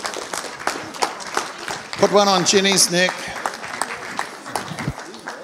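Church congregation applauding and clapping at a celebration service, crowd noise rising in a burst mid-way, with people talking and voices over the clapping.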